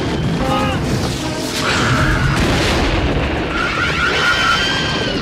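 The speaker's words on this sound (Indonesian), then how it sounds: "Ledakan bom itu membuat graboid kebingungan" A bomb detonates in a giant-worm monster film, a dense rumbling blast with debris and crashing noise rolling on for several seconds, loud and sustained under film soundtrack.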